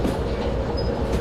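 Train rolling slowly in reverse in the Derail Valley simulator, a steady low rumble of wheels and cars with a faint brief squeal, continuous and fairly loud, no talking.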